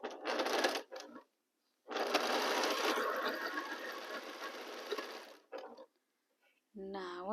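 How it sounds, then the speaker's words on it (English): A sewing machine stitches quilt blocks together with a quarter-inch seam, running in a short burst and then a longer steady rattle, close and clear, with a brief stop between. A voice begins speaking at the very end. "let's sew the first two blocks of my third row."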